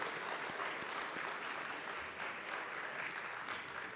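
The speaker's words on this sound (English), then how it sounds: "Let's give them a big round of applause" Steady, sustained applause fills a banquet hall as scholarship donors are honored, a broad wash of many hands clapping at even loudness throughout with no voices.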